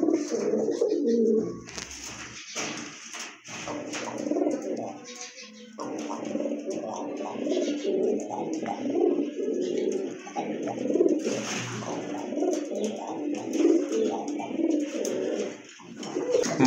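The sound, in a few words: pigeons cooing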